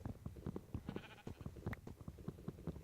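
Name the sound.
sheep bleating in the video game Minecraft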